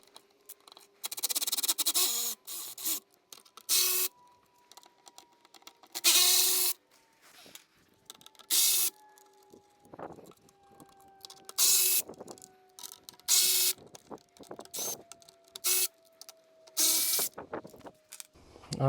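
Seven T25 Torx screws are backed out of a camera cover with a screwdriver, giving repeated bursts of mechanical ratcheting and scraping in short clusters, fairly close, with quiet gaps between and a faint background tone.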